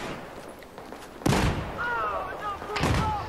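Weapons fire in the video game Battlefield 4: two sharp, loud blasts about a second and a half apart, each with a rumbling tail, over a steady background with whistling tones between the shots.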